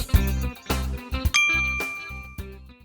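Bright bell-like dings and clangs chime in quick succession at the end of a Turkish Rapunzel cartoon, a notification bell effect ringing loud and close, about five strikes with ringing tails, no voices.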